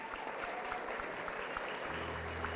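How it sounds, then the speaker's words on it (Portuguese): A church congregation applauds its cell group leaders with steady, dense clapping from a crowd filling the room, continuous throughout, with faint voices underneath. "Queria que vocês aplaudissem os nossos dirigentes de célula."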